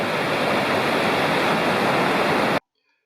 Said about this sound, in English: This is the Tellico River.